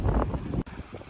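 Wind gusting outdoors on a warm autumn day by the Chernaya River near Sysert, a loud rumbling buffet against the microphone that cuts out briefly, then returns as softer blowing.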